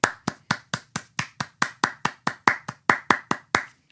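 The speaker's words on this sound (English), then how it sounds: "Now I'm going to do another person clapping in the distance." Hand clapping meant to sound like a distant person, a quick run of about eighteen rapid even claps with a bright slapping tone, close and clear with no talking.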